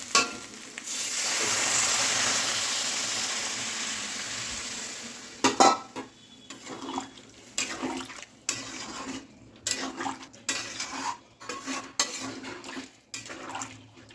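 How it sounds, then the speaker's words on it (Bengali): Water poured into a jackfruit and potato curry, a loud rushing hiss lasting several seconds, followed by a series of close utensil clanks and scrapes against the pot. "কষানো হয়ে গেছে, এবার আমি জল দিয়ে দিচ্ছি।"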